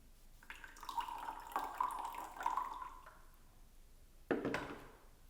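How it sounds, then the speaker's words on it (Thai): A small amount of hot water is poured into a glass, heard as a thin trickling stream over a few seconds, then a sharper splash near the end in a quiet room. "เทน้ำร้อน นิดนิดเดียวนะคะ"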